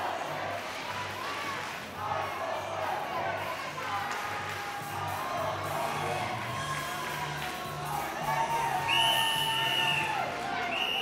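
Crowd at an MMA fight cheering and shouting in a continuous loud roar, with whoops and rising yells toward the end.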